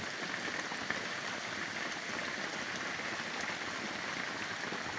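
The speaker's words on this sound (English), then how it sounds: "It was just a torrential downpour." Heavy, torrential rain pours down steadily as a dense, continuous hiss, loud and close throughout with no pauses and no talking.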